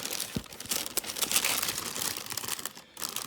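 Paper wrapping crinkles and rustles inside a rough-textured luxury shoe box during a Johnston & Murphy Chelsea boot unboxing, a continuous close crackling with a few sharper crunches and no talking.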